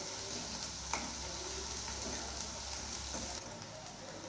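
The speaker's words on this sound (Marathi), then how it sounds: "कांदा छान आता आपल्याला तळून घ्यायचा आहे" Chopped onion fries in a pan for a sweet-sour tamarind and jaggery dal, making a constant close hiss of sizzling oil with a faint tick here and there and one brief clink of a utensil.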